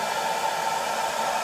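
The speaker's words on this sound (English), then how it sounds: "when I shut this blow dryer off" A blow dryer runs at a constant steady roar, loud and close, with an even airy hiss and no talking over it.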